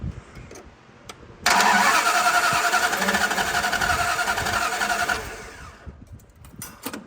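A 1969 Dodge Dart V8, left sitting for 22 years, cranks briefly and then catches, running loud and steady for several seconds before shutting off. Faint clicks and handling noises come before and after.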